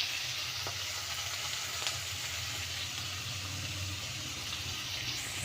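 Tomatoes sautéing in a pan while making paruppu urundai kuzhambu, a steady loud sizzle and hiss of frying continuing without a break from start to finish, close up and alone.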